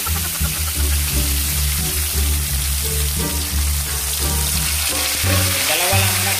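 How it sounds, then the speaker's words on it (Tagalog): Tilakya sizzles in hot cooking oil in a home kitchen, a loud, steady crackling fry with bubbling pops and a few sharper spatters, heard up close and alone. "Uminit na yung ating mantika. Ilulunod na natin yung tilakya."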